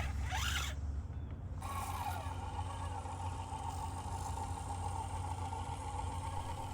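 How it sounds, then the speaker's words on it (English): A small SCX24 RC crawler with a brushed 50-size motor runs on a rocky climbing line, giving a faint, steady whine over a low hum, with a brief louder mechanical buzz at the start. "it's still running just a brushed 50 size motor in this rig"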